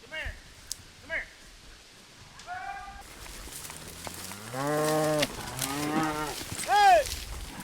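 Cattle on a working Idaho ranch low several times, the long harmonic moos growing louder toward the end, with a person calling out and outdoor background noise.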